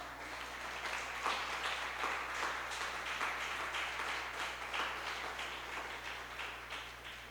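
A church congregation claps in a continuous wash of many hands, steady and moderately loud, with low hum underneath and no talk over it.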